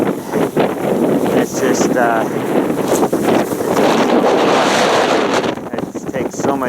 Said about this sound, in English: point into the wind for a second, but there's probably too much snow and stuff blowing